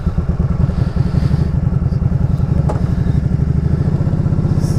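A Can-Am Spyder ST-S three-wheeler with an aftermarket exhaust idles loudly nearby, its engine thumping in a fast, even, throbbing pulse throughout.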